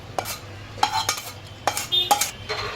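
Coconut being dry-roasted and stirred in a pan for karanji filling, with a few sharp scraping and clinking strokes of a spoon against the pan over a faint low hum, no voices.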